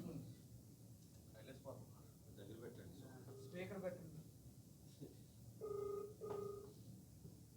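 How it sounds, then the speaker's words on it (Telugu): Faint talking is followed near the end by a telephone ringing tone: two short, steady electronic tones, quiet and close. "రింగ్ అవుతుంది."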